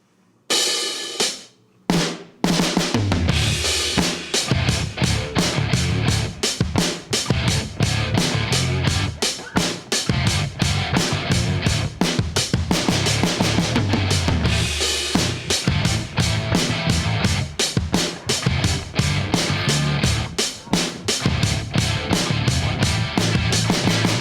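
A full-band backing track for a lap steel minor pentatonic lesson starts after a few brief count-in hits, then runs dense and steady with driving drums, bass and chords at an even loudness throughout, with no voices.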